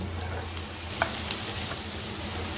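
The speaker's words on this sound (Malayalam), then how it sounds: "നന്നായിട്ട് ഇങ്ങനെ ഇളക്കി കൊടുക്കണം." Sliced onion and green chillies stir-fry over a high flame for gobi manchurian, giving a continuous close sizzle with a couple of light spatula taps, and no voices.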